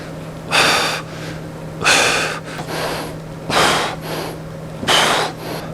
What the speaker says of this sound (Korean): 내려올 때 들이마시고 후 들이마시고 후 들이마시고